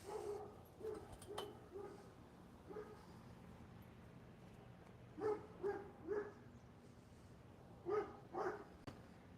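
A dog barks outdoors in short separate bursts and pairs, moderately distant, spread over several seconds against a steady low background hum.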